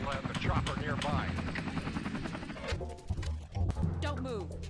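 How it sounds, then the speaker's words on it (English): Helicopter landing, a loud continuous rotor chop and engine roar filling the scene, with brief voices and other noise breaking through near the end. "We'll land the chopper nearby."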